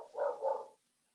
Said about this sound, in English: We hear you and the dog.